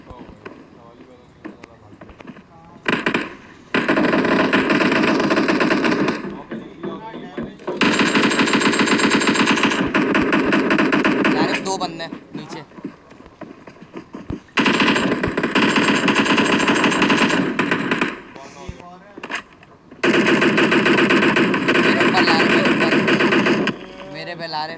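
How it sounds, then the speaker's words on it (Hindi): PUBG Mobile gunfire rattles in long, loud automatic bursts, separated by short lulls with footsteps and game sounds, while players talk over it. "पीछे की तरफ फायर, सरप्रेस्ड फायरिंग भी हुई है तुम्हें वहीं पर।"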